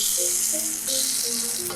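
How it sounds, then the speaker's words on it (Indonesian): Hot oil poured over Balinese sambal hisses in a steady, loud sizzle with faint tonal clinks of a utensil against the bowl underneath. "Minyaknya udah panas, kita mau tuang ke sambalnya."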